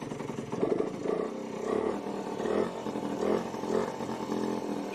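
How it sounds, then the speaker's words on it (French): A small motorcycle engine fitted with MVT ignition and a size 83 jet idles roughly and is revved in several rising, throaty bursts about once a second, loud and close with no voices. "Quelle galère pour faire tourner la moto"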